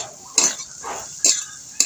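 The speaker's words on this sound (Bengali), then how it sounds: "আলুটা ভাজা হয়ে গেছে, এবার আমি নামিয়ে নেব।" Potatoes frying in a pan while being stirred: a soft continuous sizzle punctuated by three sharp metallic scrapes of the spatula against the pan, close and fairly loud.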